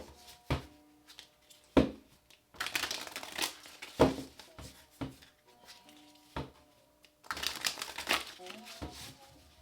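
Oracle or tarot cards shuffled in several quick, rustling bursts with pauses between, close and moderately loud, over a faint voice and soft background tones.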